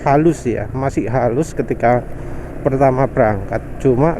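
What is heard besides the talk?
No distinct noise like a dog, phone or traffic.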